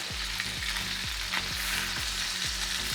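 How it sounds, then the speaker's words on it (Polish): Loud, steady sizzling of chicken pieces frying in a hot pan, with soft periodic scraping or stirring sounds underneath and no voices. "musi się dobrze obsmażyć z każdej strony, więc teraz smażymy z tej strony"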